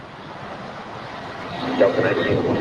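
A United Boeing 757-300 jet rolls down runway 25 right at LAX, heard as a distant, steadily building roar and rush of engine noise with no talk over it.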